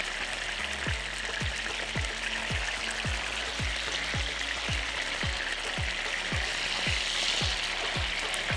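Food sizzles and crackles steadily in a hot frying pan in a kitchen, a dense continuous fry with a regular faint tapping underneath, close and moderately loud throughout with no talking.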